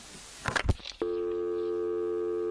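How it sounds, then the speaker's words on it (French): In a children's story about a zoo mystery, a telephone call to the police is heard: brief rustling and clicks, then a steady, continuous telephone line tone that holds at even loudness until the end. "Monsieur Peluche téléphone à la police."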